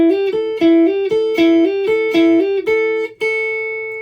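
Electric guitar lick of quick picked notes and small bends that ends by striking the root note twice, the final note ringing out and fading, with no other sounds.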